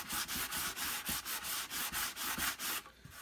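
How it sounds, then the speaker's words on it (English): Very fine sandpaper rubbed over a plastic surface in quick regular back-and-forth strokes, about a dozen close, raspy swipes before stopping, no voices. "which will smooth it off, which I use on plastic, is this very, very fine sandpaper"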